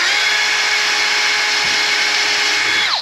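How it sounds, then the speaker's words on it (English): A power drill with a countersink bit whines steadily and loudly into wooden storm door frame boards, a continuous high-pitched motor drone that cuts off abruptly at the end. No one speaks. "I'm countersinking some screws that will screw into the big boards"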